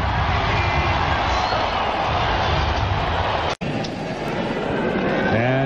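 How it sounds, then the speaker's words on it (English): Basketball arena crowd during a 2001 playoff game between Tracy McGrady's team and the Bucks, a sustained loud wash of applause and cheering that fills the clip, with a commentator's voice over it. "He wants Tracy to hear the applause."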